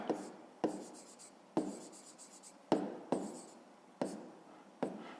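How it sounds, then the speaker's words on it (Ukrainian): A pen writes on paper in short repeated strokes, about seven scratchy bursts in a steady rhythm, each starting sharply and fading, close and fairly quiet with no voices. "Записуємо в дужках чого шайб."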